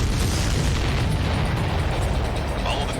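Missiles blown apart in Ace Combat 7, a dense continuous roar of explosions and rumbling booms with no break, loud and close, like a sustained barrage of detonations in the air.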